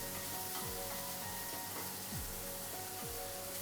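Potato wedges fry over high heat in a pan, making a dense, continuous sizzle with periodic scraping strokes as they are turned. The sound is close and steady, with no voices.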